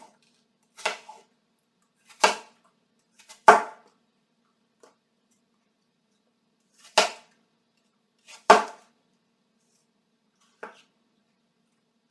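Knife slicing through apple on a flat cutting surface: five or six sharp, separate cuts spaced a second or more apart, close and crisp, with quiet pauses between them.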